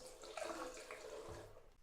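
A low, steady dribble of water trickles from a thermostatic mixer shower bar with the cold supply shut off and the hot still on. It is a faint, continuous hiss with no voices.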